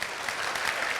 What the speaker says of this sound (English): A round of applause for our parents.